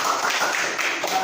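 An Arabic language class claps hands together, a short burst of mixed clapping from a small group of learners that runs for just over a second at moderate loudness.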